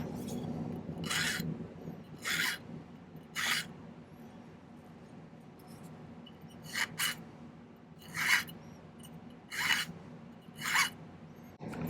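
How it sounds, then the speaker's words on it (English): A metal file scrapes the end of a silver earring in seven short, soft strokes spaced a second or two apart, close but quiet over a faint background hum. "I'm going to file the end."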